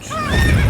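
Geralt's horse Roach gives a short, loud whinny near Kaer Morhen in The Witcher 3, a single close neigh with a bright wavering pitch.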